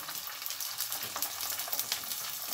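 Smoked haddock fillet sizzles steadily in a pan of olive oil, a dense continuous crackle with scattered sharper pops, close and fairly quiet, with no voices.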